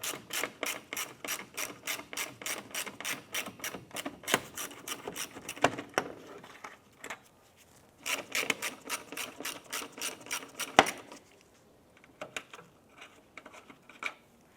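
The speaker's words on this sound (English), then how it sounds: "We'll loosen and remove our two 8mm bolts." A hand ratchet loosens two 8mm bolts on a 2005-2007 Ford Five Hundred during radiator removal, giving quick bursts of close, sharp clicking pawl strokes separated by short pauses.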